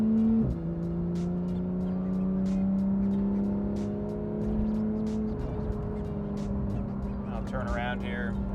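A 2016 Porsche 911 GT3 RS in PDK Sport mode cruises with a steady exhaust drone that drops and shifts pitch as it downshifts, with faint talk underneath.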